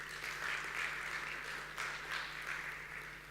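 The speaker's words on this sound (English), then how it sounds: "give me a big round of applause" A conference audience at Startup Istanbul 2016 applauds, a sustained wash of many hands clapping at moderate distance that rises and eases slightly in waves, over a faint low electrical hum.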